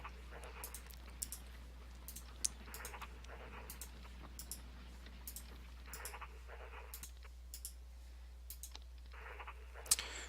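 Mouse clicks come in quick irregular bursts while army groups are moved around the map in Hearts of Iron 3, faint and close over a steady low hum.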